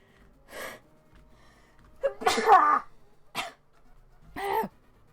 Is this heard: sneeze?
yes